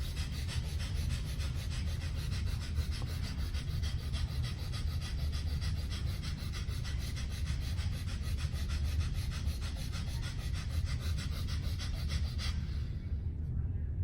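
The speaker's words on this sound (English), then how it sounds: "And so the breath of fire looks like this." Breath of fire in a qi gong workshop, a fast, continuous run of rapid breaths close to the microphone, steady and rhythmic for about twelve seconds before stopping.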